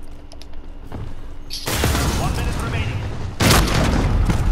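A Claymore mine goes off in a first-person shooter: a loud blast bursts in after quieter ambience and roars on, then a second loud burst follows near the end, with people talking in the background.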